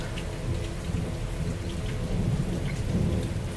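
Rolling thunder from a thunderstorm, with a lightning strike about 1 km away, rumbling low and continuous over steady heavy rain for the whole stretch, with no voices.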